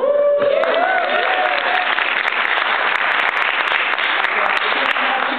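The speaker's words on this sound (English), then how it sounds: "She's actually my sister in the audience, so clap." Improv show audience breaking into loud, steady applause after a brief voice at the start, dense clapping continuing throughout.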